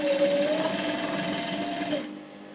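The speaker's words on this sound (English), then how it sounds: "Every step of the way, I'll measure 1 inch and continue to sew." A sewing machine stitching an elastic waistband on shorts, its motor whirring in a steady close drone with a slight pitch drift before stopping abruptly near the end.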